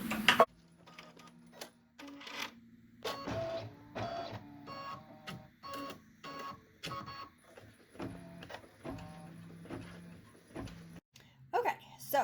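A home embroidery machine stitches a Best Dad Ever design with three stars on a Father's Day wallet, giving rapid mechanical chattering in bursts separated by short pauses, with a voice talking over parts of it.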